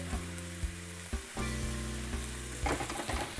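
White wine poured into a hot pan while cooking citrus ginger shrimp, giving a loud, steady, close sizzle and frying hiss throughout, with a brief stir or shake partway.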